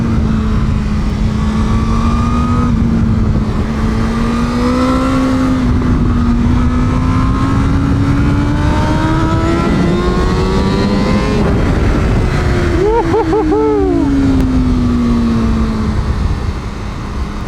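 A Honda Fireblade CBR1000RR-R SP sportbike revs loud and close on a public road, its engine pitch climbing steadily under throttle, easing off, then blipping up sharply again with no one talking.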